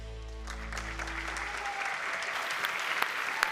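Audience applause at a high school showcase swells in as a fading low musical tone ends, then settles into steady, broad clapping from many hands, with a couple of sharper close claps near the end.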